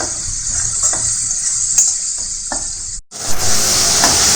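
A pan of garlic kuzhambu with turmeric sizzles steadily while a spoon stirs through it with soft scraping clinks, close and continuous, broken by a brief pause.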